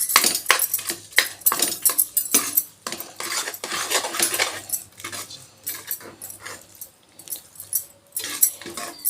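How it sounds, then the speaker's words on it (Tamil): Ven pongal being stirred in a pot after the tempering is poured in, with a spoon scraping and clinking against the metal pot in repeated close strokes that slow toward the end. "இதில் இப்போ நம்ம தாளிச்சதை கொட்டி கலர்னோம்னா நமக்கு வெண்பொங்கல் ரெடி"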